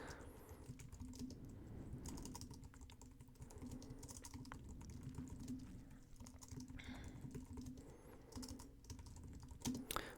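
Steady close keyboard typing on a computer while a blog post outline is written, a continuous run of quick clicky keystrokes with a low background hum and no speech.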